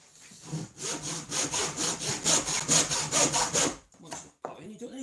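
A hand saw cuts through wood for a saw horse in about a dozen quick, rhythmic rasping strokes close by, then stops, followed by a couple of brief knocks.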